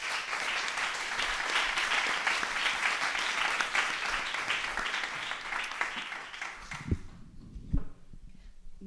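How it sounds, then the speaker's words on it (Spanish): An audience at a panel discussion on the Amazon forest claps for the panelists: a fairly quiet, steady wash of applause that dies away after about six seconds, leaving a few scattered knocks and bumps in a quieter room. "Un fuerte aplauso, por favor."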